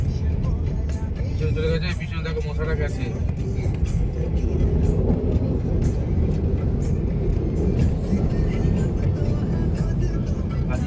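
A small car driving with several passengers packed inside, a constant low engine and road rumble heard from within the cabin, steady throughout.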